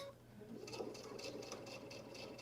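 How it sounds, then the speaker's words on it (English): A sewing machine runs a quick, even stitch close to the edge of a bag, with a fast regular mechanical rhythm that is near and clear and has no talking over it. "I'm just stitching down there, nice and close to that edge."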